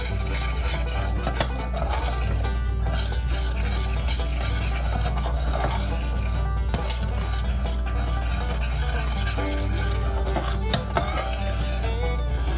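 Sorghum molasses and baking soda stirred in a pot on a stovetop burner, a continuous close scraping and rubbing of a utensil against the pot with occasional clinks, over a steady low hum.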